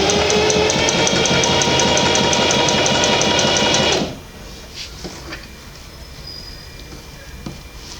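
Sewing machine stitching bias tape onto fabric, a rapid rhythmic mechanical chatter running steadily for about four seconds, then stopping abruptly and leaving faint handling noises.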